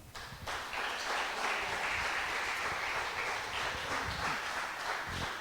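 A church congregation breaks into a sustained burst of applause, dense and steady for several seconds before tapering off.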